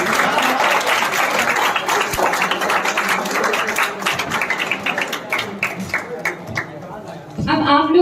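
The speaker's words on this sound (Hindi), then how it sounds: "तालियों की आवाज़ें बहुत कम आ रही है पीछे से," Audience clapping at a teacher's day celebration, a dense steady patter through most of the stretch that thins toward the end, with voices talking over it and a louder voice breaking in at the close.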